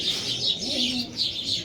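A roller pigeon, an older bird held in the hand, gives soft low cooing calls in short phrases, close and fairly quiet, with steady background hiss around it.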